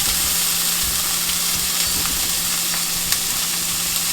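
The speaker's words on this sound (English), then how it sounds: "The oil is now heated, so we'll add the onions and the garlic." Onions and garlic sizzle in heated coconut oil in a pan, a steady, close crackling hiss with faint stirring clicks and no talking.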